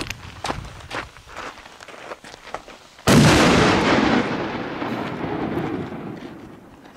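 A Spanish vlindertje firework set off outdoors on a quiet back road: a few scattered pops, then a sudden loud burst into a long crackling, fizzing roar that slowly fades over several seconds.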